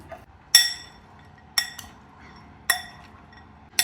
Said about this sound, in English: Let's give it another stir.